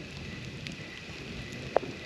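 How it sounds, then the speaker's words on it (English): Steady rain pours outside a campsite during a September deer-hunting opener, a faint, even hiss with one brief sharp tap near the end. "So it starts pouring."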